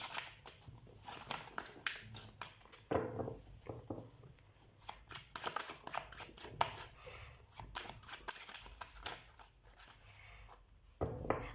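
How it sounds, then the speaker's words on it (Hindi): Tarot cards shuffled by hand in a steady run of dense, crisp riffling and flicking bursts, close and fairly loud throughout, with no talk. "ठीक है, सबसे पहले हम कार्ड शफल कर लेते हैं।"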